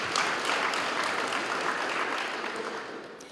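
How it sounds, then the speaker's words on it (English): An audience at a regional state-of-the-region address claps for itself, a broad, moderately loud wash of applause that holds for a few seconds and then begins to taper. "Can we clap for ourselves?"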